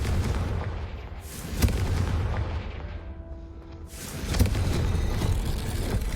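A Confringo fire spell explodes in a video game with two loud, booming blasts about three seconds apart, each rising out of a steady wash of game rumble and ambience.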